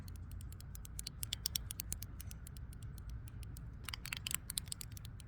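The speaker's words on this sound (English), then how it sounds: "do you hear the clicking sounds?" Small scissors click in quick, crisp snips close to the ears, in irregular bursts over a quiet outdoor background, with a denser flurry of snips near the end.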